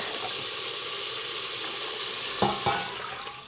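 Shrimp and scallops frying in oil in a soup pot on a gas stove, a loud steady sizzle and hiss with two brief stirring clatters near the end as the sizzle eases.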